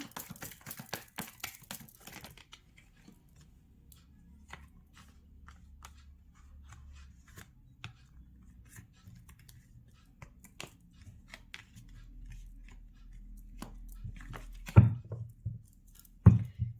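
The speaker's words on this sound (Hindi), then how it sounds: "एक बार शफल कर लेती हूँ, कुछ कार्ड उल्टे सीधे हो रहे हैं।" Tarot cards being shuffled by hand: a quick flurry of crisp riffling at the start, then sparse soft taps and slides of cards, with a couple of sharper clacks near the end, close and fairly quiet.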